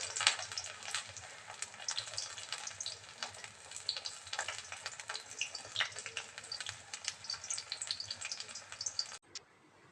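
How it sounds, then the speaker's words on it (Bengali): Pumpkin and aubergine fritters in gram flour batter fry in hot oil with a continuous close crackling sizzle, dense popping bursts throughout, no talking, cutting off abruptly near the end. "বেসনটা একটু সুজি দিয়ে একটু জোয়ান দিয়ে গুলে রেখেছি চলো ভেজে নিই"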